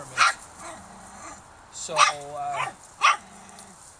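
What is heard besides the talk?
Norwegian Elkhound puppies barking and whimpering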